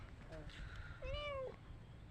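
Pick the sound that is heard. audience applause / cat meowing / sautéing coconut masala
cat meowing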